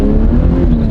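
A pickup truck engine, a 16-year-old model, roars loudly and steadily as it pulls away on wet ground, a dense close-up drone that holds for under a second with no talking.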